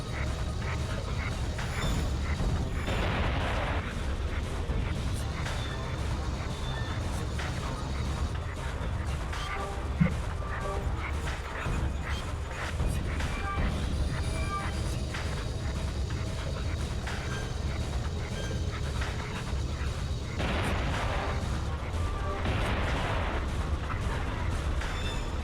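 Turret gunfire in a video game comes as bursts of rapid shots, loudest near the start and again toward the end, over a constant low rumble and busy mechanical game noise.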